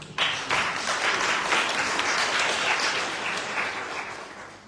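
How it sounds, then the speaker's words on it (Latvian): An audience at a panel discussion bursts into dense, even applause that holds steady for a few seconds, moderately loud with no voices over it. "Aplausi lūdzu."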